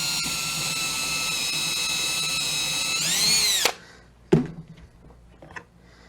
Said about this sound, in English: I'm going to use a drill just to start the holes for my screws.